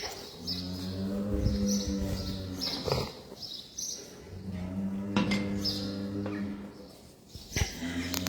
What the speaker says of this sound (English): The bulls in the back are making themselves known.